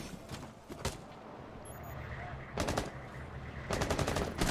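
Gunfire in Rainbow Six Siege, heard as two or three short automatic bursts of rapid shots over low background ambience during a tournament match.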